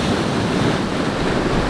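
Surf breaking at Saddle Cove: steady, loud broadband wash of crashing ocean waves with wind buffeting the microphone, continuous and close, no voices.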